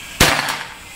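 A single sharp crack from an Escobar PCP air rifle fitted with a power plenum, loud and close, the bang decaying quickly with a brief faint echo.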